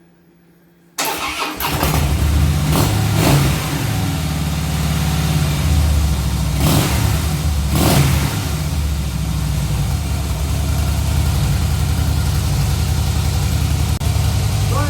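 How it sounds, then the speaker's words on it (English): A 2013 Harley-Davidson Softail FLS motorcycle engine cranks, fires and then settles into a steady, loud, close idle that carries on without a break, with a few brief revs early on. "Now we're going to run the motor."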